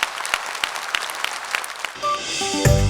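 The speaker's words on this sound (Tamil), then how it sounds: "ஒரு பலத்த கைத்தட்டல் பாராட்டி வழங்குமாறு அன்புடன் கேட்டுக்கொள்கிறேன்." Audience at a Tamil stage talk show applauding, with scattered claps building into a fuller burst of clapping near the end.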